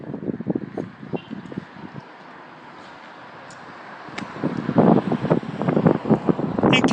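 High wind gusting in Sydney, Nova Scotia on a stormy November day, a steady rumbling roar with microphone buffeting that swells louder in the second half, with no voices over it.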